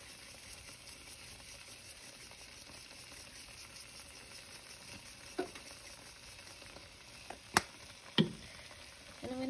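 Goulash with pepper and oregano stirred in a slow cooker, a faint continuous wet scraping and bubbling hiss, with a few sharper knocks of the spoon against the pot near the end.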